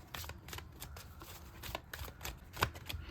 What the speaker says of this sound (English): So let's take out some cards.